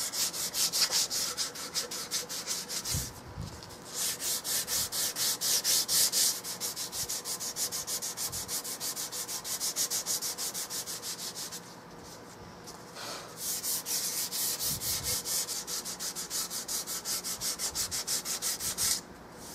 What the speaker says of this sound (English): When you start sanding on it, you can tell the quality of it.